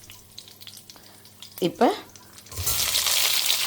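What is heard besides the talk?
fenugreek and curry leaves sizzling in hot oil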